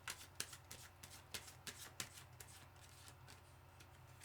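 Tarot cards are shuffled by hand close to the microphone in a string of quick, light papery riffles and taps, quiet and without talk.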